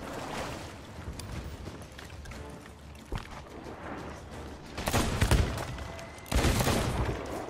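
Video-game gunfire in Sea of Thieves at sea: scattered shots early, then two loud bursts of fire near the end, with ambient background noise and no talking.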